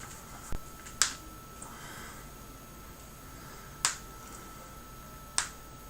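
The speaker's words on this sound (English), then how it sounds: "That clicking sound is my fingers as I pull them to stretch them out." Knuckles cracking as fingers are pulled and stretched during a miniature painting session, a few sharp isolated clicks spaced seconds apart over a quiet room background.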